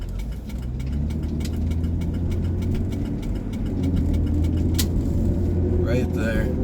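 A 2004 Jeep Grand Cherokee, recorded after a front differential fluid change, gives a continuous low engine and drivetrain drone from inside the cabin, steady throughout, with faint ticking and a brief voice near the end.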